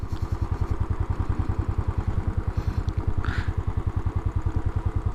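A Royal Enfield Classic 500 motorcycle being ridden, its single-cylinder engine thumping in a steady, rapid low pulse that runs through the whole stretch, fairly close and prominent.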